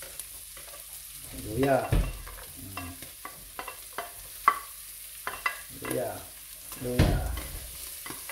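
Garlic and ginger frying in a pan for Ilocano beef pinapaitan, with stirring scrapes and soft sizzling in bursts, and a few brief spoken words over it.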